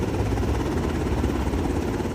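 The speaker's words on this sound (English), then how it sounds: "jolted out of bed by the sounds of military helicopters" Military assault helicopters pass over a densely populated South Shore Chicago neighborhood, a loud, steady low-pitched rotor roar with a constant rumbling drone and no pauses.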